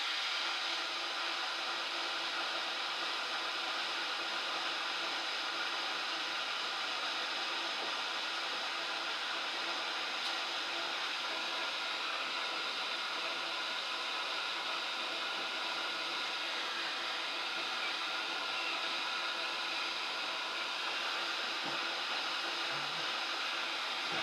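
Hair dryer blowing on items being dried, a constant close whooshing roar that holds steady throughout with no pauses and no talking.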